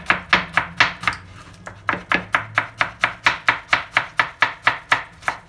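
Chef's knife slicing halved onions thinly on a cutting board for a Turkish salad, a steady run of about two dozen crisp, evenly spaced chops, close and clear with no talking.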